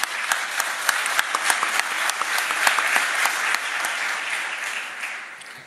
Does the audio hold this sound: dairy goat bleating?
no